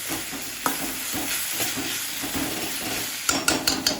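Onions with salt sauté in a pan with a close, steady sizzle while a spoon stirs and scrapes, and a few sharper knocks against the pan come near the end.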